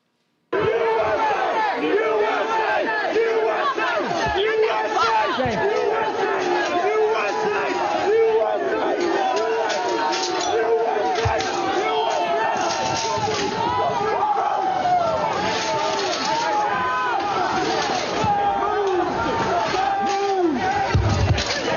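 A large crowd roars and shouts as it breaches the police line at the Capitol Peace Circle in Washington, with continuous loud yelling, chanting and scuffling and occasional sharp impacts.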